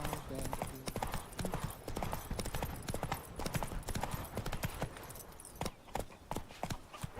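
The horse Roach galloping in The Witcher 3, a steady rapid clatter of hooves running throughout at close range, with faint game ambience underneath.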